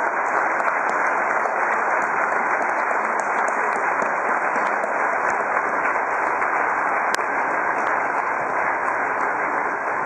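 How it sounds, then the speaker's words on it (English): An audience at the 2010 Pakistan entrepreneurship summit at PC Hotel gives a steady, dense round of applause that continues evenly without pause. "Applause."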